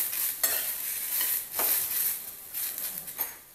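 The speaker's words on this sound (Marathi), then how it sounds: "गॅस मोठा ठेवायचा आणि गवारी आहे ती चांगली भाजून घ्यायची।" Cluster beans (guar) roast and stir in a pan over a high gas flame, giving a steady sizzle with several short scraping bursts of stirring, close and moderately loud, with no talking.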